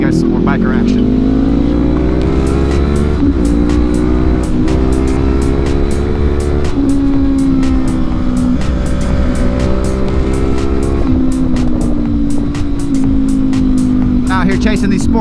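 Honda CB500X motorcycle ridden hard on a twisty Oregon road, its engine note loud and close, rising and dropping in pitch through gear changes and corners, with wind buffeting and a voice talking over it throughout.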